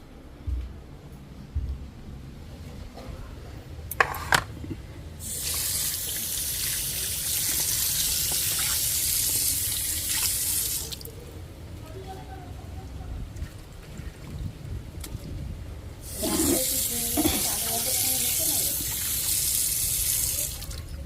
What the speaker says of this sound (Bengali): একটু জল দিয়ে ধুয়ে নিলে রক্তটাই হয়ে যায়